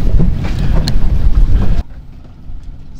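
A heavily loaded boat's engine labours with a deep, rough rumble under strong wind buffeting the microphone. The noise drops abruptly partway through to a quieter drone.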